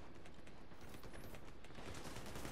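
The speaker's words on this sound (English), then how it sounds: "Let him shoot me." Continuous automatic gunfire in the video game The Division 2, a dense, steady fusillade of rapid shots that stays loud and unbroken throughout, with no talk over it.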